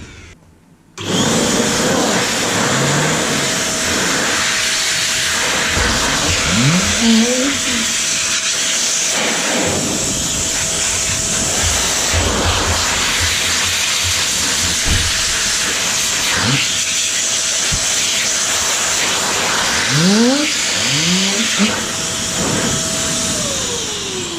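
A loud, steady rushing roar of an XPOWER A-5 1000-watt electric blower runs continuously, with a few rising whine sweeps as it revs, dust blasting throughout.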